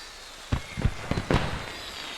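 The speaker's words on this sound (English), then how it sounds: "the fireworks are really neat" Fireworks burst at a carnival in the video game No Strings Attached: four or five sharp pops and crackles arrive in quick succession over a low background hum.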